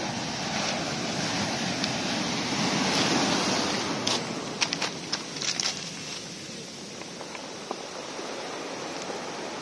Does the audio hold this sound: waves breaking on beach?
yes